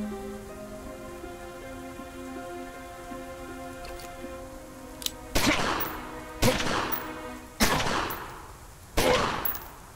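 Gunshots in the crime strategy video game Omerta - City of Gangsters: four sharp, loud reports spaced about a second apart, each with a short decaying tail, following a stretch of quieter ambient game background.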